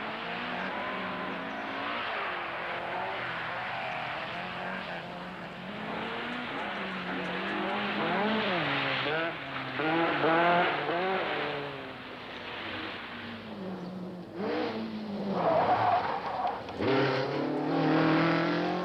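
1970s rally cars, including a Lancia Stratos and a Ford, slide sideways on slippery Greek tarmac, their engines rising and falling in constant revving sweeps with occasional tyre squeal, passing loud and close for nearly twenty seconds without talk.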